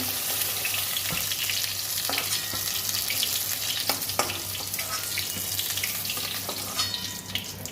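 Continuous loud sizzle of pointed gourd frying in oil, with a few sharp clinks and scrapes from a utensil in the pan, and a low hum underneath.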